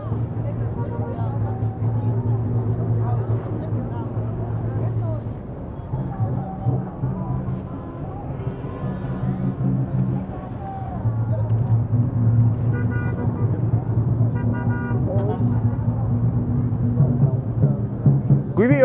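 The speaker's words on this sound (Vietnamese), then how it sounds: "Lát nữa thì mời quý vị và các bạn sẽ cùng đến với tiếng ống xả." A deep, steady Rolls-Royce exhaust rumble drones close by, dipping briefly and then returning to a smooth, continuous low growl.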